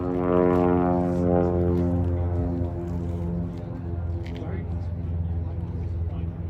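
De Havilland DH.98 FB Mk VI Mosquito piston engines in cruise flight, a steady close, loud propeller drone with stacked engine harmonics that eases slightly partway through, heard under someone talking throughout.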